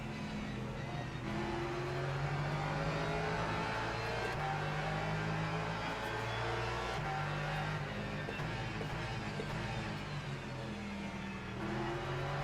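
Porsche race cars roar around the Barcelona circuit in an ELMS racing game, with steady engine drone and whining revs shifting up and down continuously throughout, close and loud, no talk over it.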